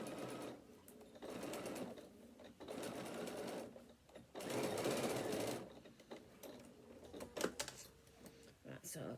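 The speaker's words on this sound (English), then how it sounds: "I'm going to stitch down the other side." A sewing machine runs in bursts of fast, even stitching down the side of a fabric bag, pausing between runs, close and moderately quiet.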